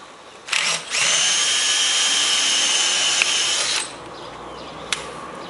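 A power drill fitted with a number 7 or quarter-inch bit bores out a fastener head on a door, a high steady whine of about three seconds that starts after a brief burst and ends with a small click, with no talk.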